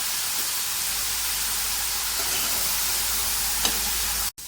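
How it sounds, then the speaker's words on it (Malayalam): Shallots with curry leaves sauté in a pan for a Malayalam ulli theeyal curry, giving a steady close hiss and sizzle, with a few faint scrapes of stirring and a brief dropout near the end, and no voices. "ഇനി നമുക്ക് ഉള്ളി ഒന്ന് വഴന്ന് വരുന്നത് വരെ ഇളക്കി കൊടുക്കാം"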